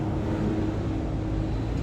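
Honda Beat scooter engine held at open throttle, a low droning rev that holds steady and close for a couple of seconds, no voices.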